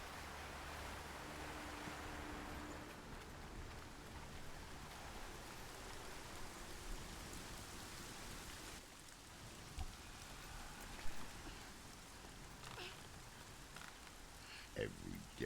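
Heavy rain in the video game Hellblade: Senua's Sacrifice, a continuous soft hiss of falling water that persists throughout, with faint low rumbles and occasional sharper sounds.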